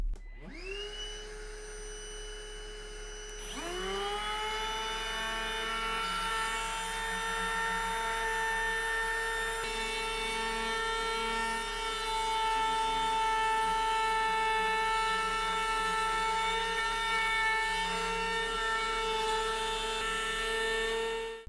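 A Skil 20V compact trim router spins up and cuts a dovetail in hardwood with a loud, close, high-pitched motor whine that rises at startup and then holds steady and sustained with no talk.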